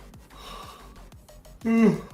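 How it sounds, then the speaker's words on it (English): A person yawns near the microphone, a drawn-out breathy gasp that rises into a voiced tone near the end, with faint breathing before it. "I heard the yawn."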